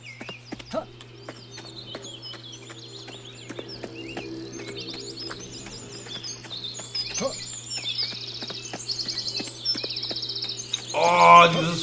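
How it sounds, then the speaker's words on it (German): Birdsong from the Viking-settlement video game Lost Viking: Kingdom of Women, with repeated chirps and tweets over a steady low hum, thin clicking steps and a denser burst of calls near the end. "dieses Vogelgezwitscher ist zu laut."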